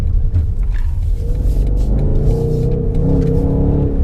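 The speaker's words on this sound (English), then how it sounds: "You hit that gas, it takes a second for it to kick in. Oh, it sounds great though." A BMW M850i xDrive coupe accelerates through New York City streets, its engine a loud, steady, deep rumble that swells slightly in pitch as it revs, heard up close from inside the car without talk.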